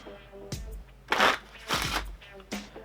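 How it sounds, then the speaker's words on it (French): A deck of playing cards is shuffled for a magic trick, giving several short bursts of riffling and flicking, close and moderately loud, separated by brief pauses. "Vous faites donc mélanger votre jeu"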